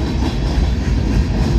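An all-EMD consist of SD70ACe diesel locomotives rolling past up close, a loud steady rumble of engines and wheels with rhythmic rail clatter and no voices.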